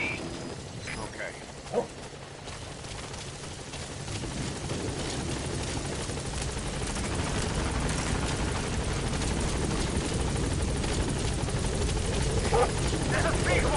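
Helicopter Pequod in Metal Gear Solid 5 arriving at a landing zone: a steady, broadband rotor roar that swells and holds loud throughout, with a voice speaking over it.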